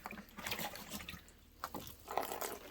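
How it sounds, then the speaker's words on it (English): Water from a soaking bucket poured onto a worm farm's worm blanket, a soft splashing and trickling that comes in two bursts with a brief pause between, faint and close. "Get some of this water that's in this bucket that was soaking my"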